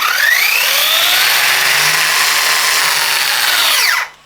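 Electric motor of a Blackbull Desert Bull 1/8 scale RC car on throttle, a loud steady high-pitched whine held for about four seconds and then cut off abruptly.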